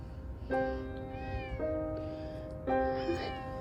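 A thin white and tabby cat meows three times in close succession, each cry clear and near, with a quiet room behind it.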